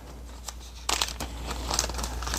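Light crinkling of a small plastic zipper bag holding fishing rigs for webfoot octopus and cuttlefish, in short bursts, close by and fairly quiet, with a few sharper rustles toward the end.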